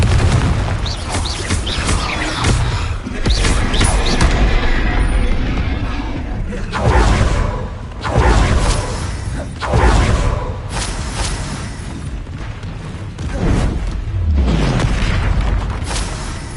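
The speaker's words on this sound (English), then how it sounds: "Confringo! Bombarda!" Spell explosions from Confringo and Bombarda cast in the Hogwarts Legacy video game: loud, heavy booms repeat every second or two, each bursting out then rumbling down, over continuous low action noise.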